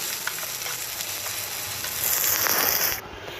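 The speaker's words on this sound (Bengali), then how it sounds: "একটা আলু আমি একদম ছোট ছোট করে রেখেছিলাম কেটে সেটাকে আমি দেখো ভালোভাবে ভেজে নিচ্ছি" Diced potato fries in hot oil in a wok, a dense, close sizzle that swells louder midway, with faint stirring scrapes and no voices.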